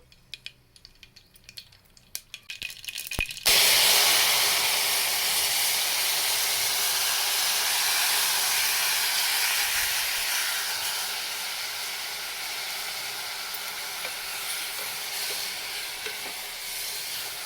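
Tomatoes frying dry in a pressure cooker with mustard seeds and asafoetida, a loud steady sizzle and hiss that starts abruptly after a few light clicks and taps, then fades slightly while continuing to the end.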